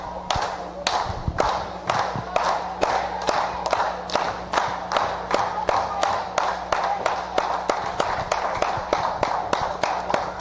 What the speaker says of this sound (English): Fans clapping for Larry.